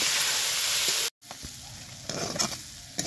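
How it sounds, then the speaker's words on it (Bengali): Grated raw potato fries in a pan with a loud, even sizzle that cuts out abruptly, then returns as quieter crackling and a few scrapes. "এবার আলুটা ভেজে নেব।"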